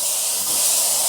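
An Iwata Vault HP.TH2 airbrush-style spray gun with a 150mm pot releases one continuous, close, loud hiss of spraying air and paint, steady throughout the short burst with no talking.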